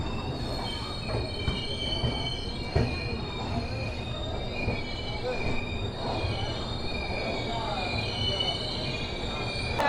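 The Gurudev Express rolls into Visakhapatnam Junction with metal wheels squealing in long high-pitched tones over a continuous rumble and rattle of carriages, loud and close, with faint voices in the background.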